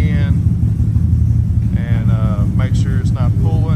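A CFMOTO UFORCE side-by-side fitted with portal gear, updated tie rods and A-arms rolls along on a test drive, its engine rumbling steadily close by while someone talks over it.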